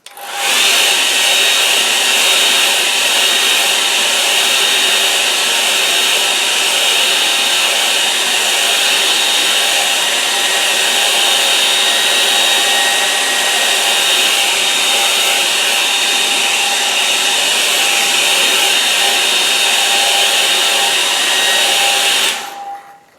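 A hair dryer blows steadily and loudly to dry a watercolour painting of clouds over a lake, a constant broadband whoosh running nearly the whole time and cutting off just before the end, with no talking.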